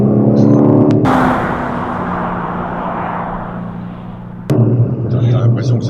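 Car engine pulling hard in a steady acceleration, a loud continuous roar with rising broadband noise that swells and then settles, ending in a lower steady drone with faint voices.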